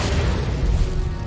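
A fiery Incendio spell blast in Hogwarts Legacy, a loud sustained roaring burst of low rumble and crackle filling the whole moment, with no talk over it.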